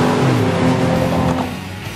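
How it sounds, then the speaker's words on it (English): A Cadillac Escalade with a 403-horsepower V8 launches in a drag race, its engine roaring loud with a rising harmonic tone that fades slightly toward the end; no talking. "With a 403 horsepower V8, it combines incredible acceleration with the capability and luxury of, well, an Escalade."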